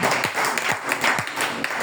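A church congregation claps for the Lord during a sermon, several evenly spaced handclaps in a steady rhythm that echo through the hall, with no talking over them.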